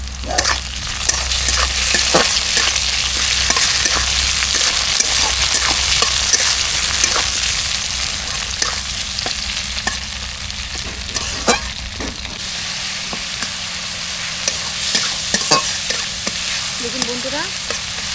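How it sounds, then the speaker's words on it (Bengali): Onions and tomatoes fry in a hot pan with a continuous sizzle, while a utensil stirs and scrapes the pan in frequent sharp strokes throughout, close and loud with no talk. "এবার টমেটো দিয়ে দেবো টমেটো ভাজা ভাজা করে নেবো"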